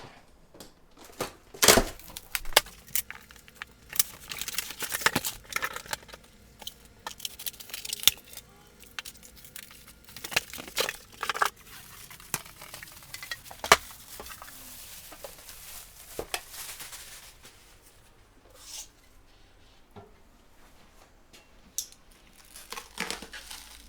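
Unboxing of a 2022 Xhorse Condor XC-Mini Plus II key-cutting machine, close, irregular rustles, crinkles of packing and plastic, and knocks of parts being handled, with quiet stretches between bursts.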